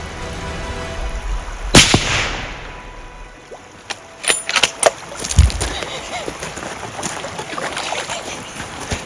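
A sharp rifle shot rings out at a bear during an Alaskan hunt on the water, one loud crack near the start followed by a few fainter thumps, over wind and boat noise, with people talking.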